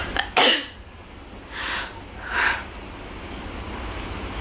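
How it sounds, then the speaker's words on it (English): A single sharp sneeze near the microphone, followed by two softer breathy exhales or sniffs, over a quiet background hum. "So I gotta sneeze."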